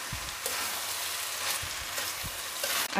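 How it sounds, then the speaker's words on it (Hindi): Rice being stirred into a hot pan for vegetable fried rice, a soft steady sizzle with a few faint scraping thuds of the spoon, fairly quiet and close, with no talk. "अब मैं इसमें ये चावल डाल देती हूँ, और मैं इसे अच्छे से"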